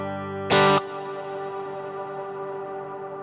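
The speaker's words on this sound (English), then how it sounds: "And I can go for that infinite reverb kind of sound, which is great for your for like your volume swells." A guitar note played through a Neunaber Seraphim shimmer reverb pedal flares in a bright, loud burst, then hangs in a long, sustained, shimmering wash that barely fades, like an endless reverb tail with no voice.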